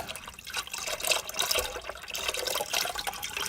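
Engine oil drains from an Audi A8 into a container, a steady splashing, gurgling pour that stays close and fairly loud with no talk.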